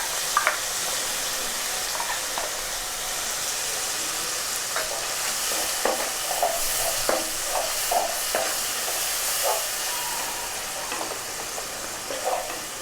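Ginger and garlic paste, with cumin, fries in a pan over lowered heat, giving a continuous bright sizzling hiss dotted with soft scraping stirs throughout.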